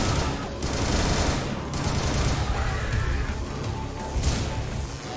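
Rapid video-game gunfire rattles in dense, continuous bursts with heavy low-end booms, loud and close throughout, while a voice talks faintly underneath.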